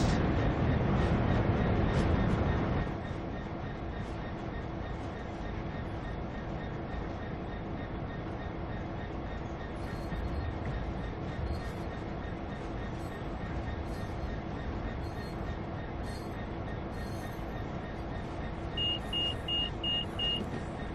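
Class 66 EWS diesel freight locomotive hauling intermodal containers, a steady distant rumble and drone that holds evenly throughout, with a louder burst at the start and faint squealing tones near the end.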